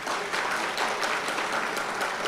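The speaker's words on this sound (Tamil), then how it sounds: "அந்த பிள்ளைகளுக்கெல்லாம் ஒட்டு மொத்தமாக ஒரு கைத்தட்டல் கொடுங்களேன்." Crowd applause for schoolchildren at a Tamil comedy speech event, a dense, steady wash of many hands clapping at once, fairly loud and sustained throughout with no voices on top.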